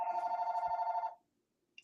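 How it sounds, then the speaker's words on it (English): A telephone bell rings in one sustained, warbling burst lasting about a second, loud and close, then cuts off into near silence, with a faint click at the end. "I got a phone ring."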